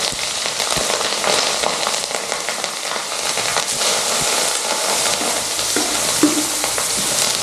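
Chilies fry with mustard seeds in hot oil, giving a loud, continuous close sizzle and crackle while a utensil stirs and scrapes through the pan throughout.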